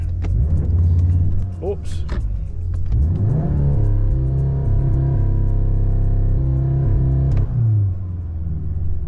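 A Volkswagen Golf R MK7.5 revs loudly and close by during a fake launch, with the engine note climbing, holding and falling again. A voice briefly speaks over it.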